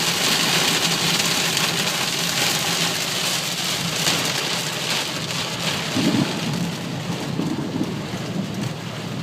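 Heavy rain pours steadily on a surface with rolling thunder rumbling underneath, a dense continuous wash of noise throughout with no voices.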